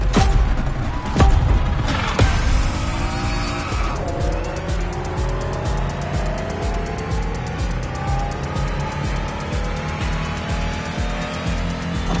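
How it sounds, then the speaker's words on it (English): Renault Trésor concept car driven in The Crew Motorfest racing game, its engine roaring loudly and steadily throughout, with tire squeal and skidding early on as the car accelerates and corners. "you're about to drive one of the most beautiful cars in the world, the Renault Trésor"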